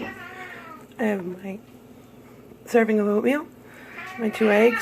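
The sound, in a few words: cats fighting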